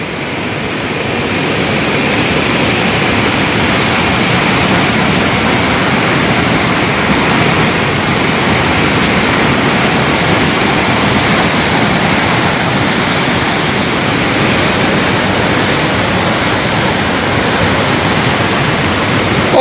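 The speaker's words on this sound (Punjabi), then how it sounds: "ਓਏ ਨਕਸ਼ੇ ਵਾਲੀ ਕੰਧ ਤੇ ਪਾਣੀ ਚੜ ਗਿਆ" A loud, steady roar of floodwater rushing over a wall, from the Ravi river in Punjab, pours continuously, a dense wash of noise with no pauses and no voices.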